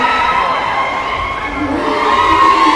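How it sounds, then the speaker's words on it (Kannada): Loud, sustained applause and crowd noise at a college annual function in an auditorium in Soraba, dense and steady throughout, with no individual voices standing out. "ಜೋರಾದ ಚಪ್ಪಾಳೆ"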